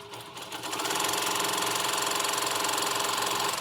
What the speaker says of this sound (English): And now we're going to do the tack down stitch.